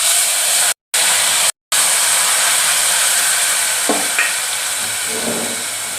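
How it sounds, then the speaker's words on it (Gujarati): Chopped tomatoes hit hot oil in a pan for Kathiyawadi sev tameta nu shaak, a loud broad sizzling hiss with two sudden dropouts, then stirring scrapes as the sizzle slowly fades. "હવે આપણે આ ટમેટા સુધારેલા છે હવે નાખી દઈશું."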